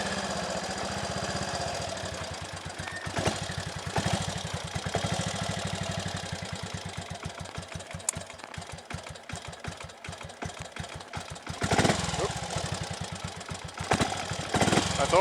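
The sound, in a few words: Triumph Tiger Cub trials motorcycle engine idling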